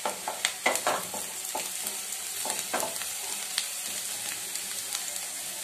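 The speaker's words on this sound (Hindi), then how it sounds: "अभी डाल रहे हैं टमाटर, इसको हम 1 से 2 मिनट भूनेंगे" Chopped onion and tomatoes frying in a pan, a steady sizzle with stirring scrapes and clicks of the utensil against the pan, close and continuous, with no voice over it.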